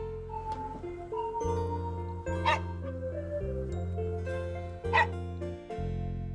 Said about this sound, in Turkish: O çok uslu bir köpek değil mi?